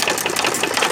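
A 1919 Domestic side shaft hit-and-miss engine runs close by, a loud, rapid mechanical chatter of rhythmic knocks and clicks without pause, no talking.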